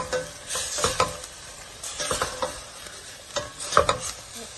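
A spoon stirs macaroni into a minced meat gravy in a hot pan, giving several separate scraping strokes over a low sizzle, close by and without speech.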